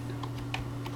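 A computer keyboard clicks with a few quick, separate keystrokes, faint and close, over a low steady electrical hum.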